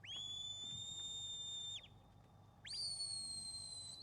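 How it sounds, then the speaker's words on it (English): A sheepdog handler gives two long, sharp, high-pitched whistle blasts at a sheepdog trial, each held steady for over a second with a short pause between, carrying clearly over quiet outdoor background. "blows the whistle"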